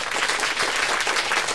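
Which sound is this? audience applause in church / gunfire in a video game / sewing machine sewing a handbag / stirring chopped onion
audience applause in church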